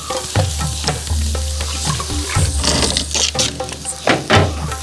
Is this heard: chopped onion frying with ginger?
yes